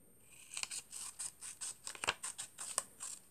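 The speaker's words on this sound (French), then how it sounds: "Alors, je coupe." Scissors snip through folded paper card for a lily-of-the-valley themed card, a quick run of about a dozen crisp, close cuts in steady rhythm with no talk.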